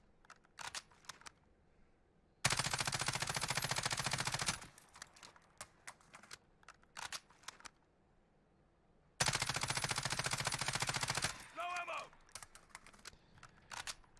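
RAM-7 assault rifle fire in Warzone comes in two long, loud full-auto bursts of rapid even shots, separated by quieter clicks and small handling noises, close up with no talk.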